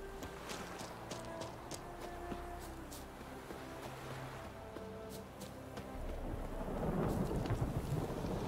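Thunderstorm in The Witcher 3: Wild Hunt, with steady rain and repeated rolling thunder rumbles that swell louder near the end, no voices over it.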